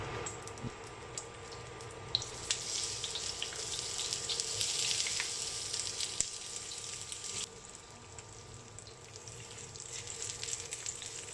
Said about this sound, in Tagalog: Gigisa muna natin siya sa sibuyas.